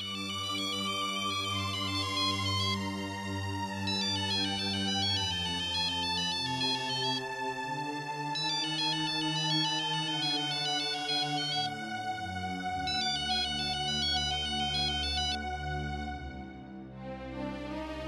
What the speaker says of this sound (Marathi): बेबी फोन उचल.